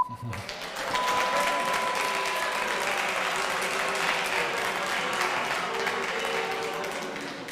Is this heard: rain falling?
no